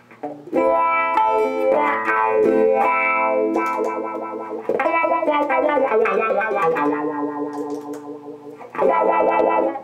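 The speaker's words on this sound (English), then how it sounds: "you can get like the auto wah sound" An electric guitar through a Strymon Mobius effects pedal plays sustained, distorted chords, the tone sweeping and warbling with an auto-wah effect, loud and continuous with no talking.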